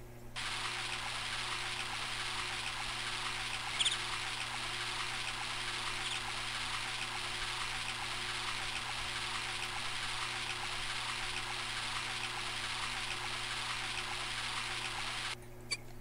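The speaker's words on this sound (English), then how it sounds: "Let's go ahead and take a shower." In The Sims Bustin' Out, a shower runs as a continuous, even hiss of spraying water that lasts throughout and stops abruptly near the end, over a low steady hum.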